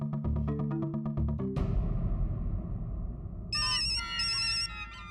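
A phone ringtone plays in a household scene from a Hindi TV sitcom, first a short melodic tune, then a loud repeating electronic ring in bursts near the end.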